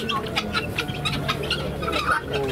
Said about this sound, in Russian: Куры, куры, цесарки.